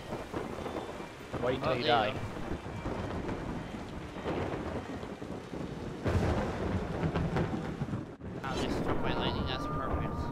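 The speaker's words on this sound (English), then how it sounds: "So what the heck am I supposed to do now with this storm?" Thunderstorm with rain in the game Yonder: steady rainfall hisses throughout while thunder rumbles roll in several times, and a person speaks over it at points.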